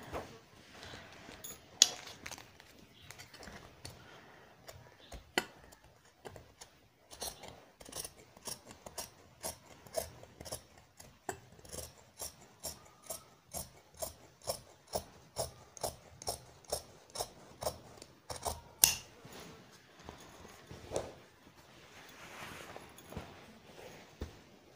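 Scissors snip through cloth being cut for a ladies suit, a long run of crisp, evenly spaced cuts that come fast and regular in the middle, with scattered rustling of fabric between them; no talking.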